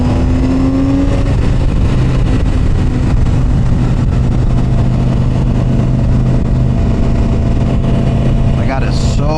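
Harley-Davidson motorcycle cruising along damp roads, a loud, steady engine drone with continuous wind rush from the ride, holding a constant level the whole time.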